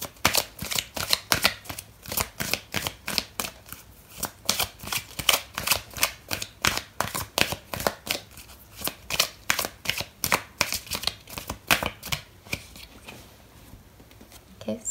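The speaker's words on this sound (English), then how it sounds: "I'm going to pull out another card for you" Tarot deck is shuffled by hand in a long series of quick, crisp riffles and card flicks, close and fairly quiet, with brief gaps between bursts.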